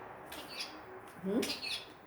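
A pet bird gives a few short, faint squawks and chirps in a quiet indoor room, one slightly louder call in the middle, with no talk.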